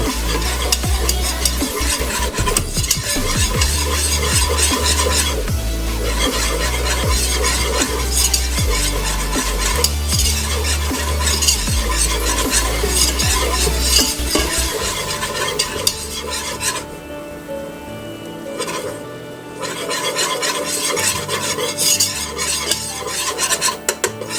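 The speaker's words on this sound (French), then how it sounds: "Pendant que vous ajoutez de la farine, vous tournez au fur et à mesure." Flour being stirred into a hot pan while making blanquette de veau gives a continuous scrape and clink of a utensil over a steady sizzle, with rhythmic stirring strokes throughout and no talking.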